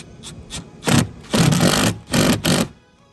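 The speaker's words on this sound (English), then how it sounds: "What I like to do is run my plastite bolts through there by themselves first with the impact" An impact driver running plastite bolts into a Seadoo Apex RXPX 300 fender mount, several loud, close bursts of rapid hammering whir, short then longer, separated by brief pauses.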